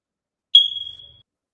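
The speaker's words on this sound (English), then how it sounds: "What was that last one? I have a smoke detector one now." A single short electronic smoke detector chirp, a thin high beep that rings out and fades within about half a second, alone in silence.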